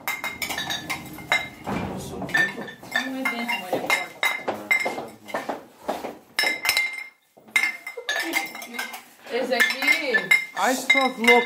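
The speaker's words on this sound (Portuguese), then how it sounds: "vocês vão quebrar esses copos" Drinking glasses clink and knock together repeatedly in quick, irregular bursts close by, with sharp bright chinks and clatter of tableware, while people talk and laugh over the clinking.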